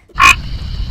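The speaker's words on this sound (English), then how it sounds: "A frog hops and croaks." A frog gives a short, loud croak close up, followed by a second croak starting just as the clip ends.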